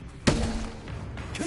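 A Bombarda blasting spell hitting in Hogwarts Legacy: a single sharp, close thud-like impact with a brief ringing tail, followed by a softer second burst, with no talk.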